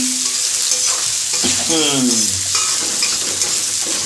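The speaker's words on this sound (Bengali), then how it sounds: "পেঁয়াজটা দিয়ে বেশি ভাজা ভাজা দরকার নেই হালকা একটু নাড়ি চাড়িয়ে নিয়ে" Onion sizzles loudly in hot oil as a utensil stirs it around the pan, with steady close frying noise and a few scraping strokes, no voices.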